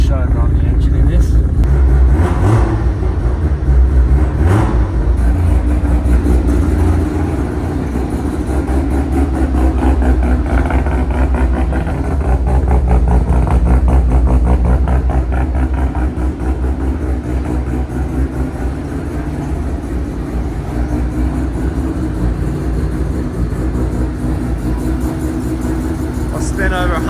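A rotary-engined sleeper car rumbles steadily at idle with a deep low drone, rising briefly as it revs, while people talk nearby.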